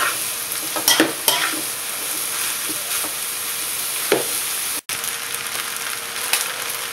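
Seafood fried rice is stir-fried in a pan: a soft background sizzle runs throughout while a spatula clanks and scrapes in a few sharp, close strokes, with a brief dropout partway through.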